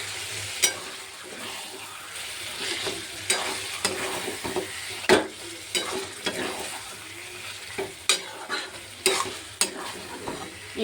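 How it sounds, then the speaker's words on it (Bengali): Chicken fries in hot oil in a pan, a continuous close sizzle with irregular loud clacks and scrapes of a spoon stirring the pieces every second or so, with no voices. "চিকেনটা ছেড়ে দিলাম বন্ধুরা।"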